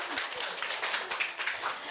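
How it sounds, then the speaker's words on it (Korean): A crowd at a middle-school speaking festival at Korea University claps on cue, a brief, even wash of many hands at moderate volume lasting under two seconds. "박수 한 번만 쳐주세요"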